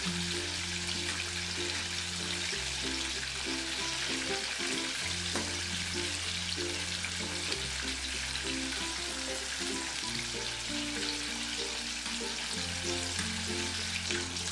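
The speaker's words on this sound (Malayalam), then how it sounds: "ഇത് ഫ്രൈ ചെയ്യുമ്പോൾ ഇതുപോലെ നല്ല ഡീപ്പ് ഫ്രൈ ചെയ്ത് തന്നെ എടുക്കണം." Spicy broasted chicken pieces deep fry in oil with a constant, even bubbling sizzle that holds steady throughout without pause.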